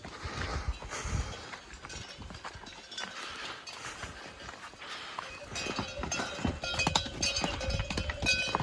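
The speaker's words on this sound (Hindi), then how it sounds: "देखिए वो देखिए सामने से घोड़े खच्चर आ रहे हैं।" Horses and mules carrying loads along a mountain trail near Kedarnath in Uttarakhand, with a steady run of hoof clip-clops and bells that gets busier and closer toward the end, over outdoor ambience and no talk.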